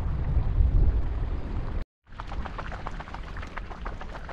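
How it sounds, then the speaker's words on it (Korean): Strong wind gusts across the sea during a mackerel fishing trip, a loud rushing roar buffeting the microphone. It drops out briefly, then returns with a rougher, gustier texture. "와 바람이 지금 대단합니다. 바람이 바람이 터졌어요."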